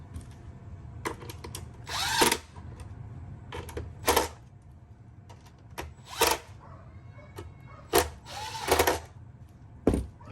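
Close, short bursts of a power drill whirring in quick pulses, about seven of them spread over ten seconds, drive screws back into a Onewheel, with quiet handling noise between bursts.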